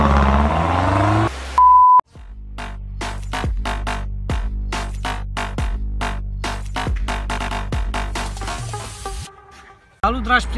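Opel Astra H 1.7 CDTI with a modified exhaust, heard from inside the car: a loud diesel drone with a string of sharp, regular revving bursts, then the engine settles and cuts off near the end.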